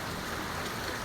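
Heavy typhoon rain pours down in a dense, unbroken hiss of drops hitting surfaces nearby, steady throughout with no pauses and no voices.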